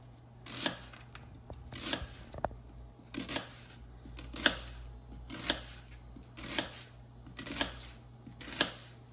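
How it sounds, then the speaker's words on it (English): A knife slices through a ripe heirloom tomato on a cutting board, eight crisp, evenly spaced cuts ringing out close and clear against a quiet kitchen background. "I'm going to slice it into slices."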